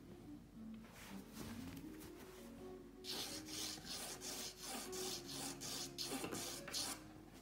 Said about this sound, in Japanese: 描き始めは 4B からスタートしようと思います